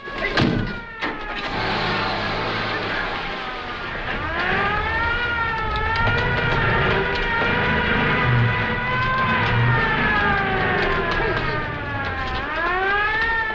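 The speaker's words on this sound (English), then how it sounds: "Don't you hear that siren? That means maneuvers are starting." A wartime air-raid or maneuvers siren sounds at night, a loud rising and falling wail that sweeps up and down steadily, with brief voices and a nearby car engine heard beneath it.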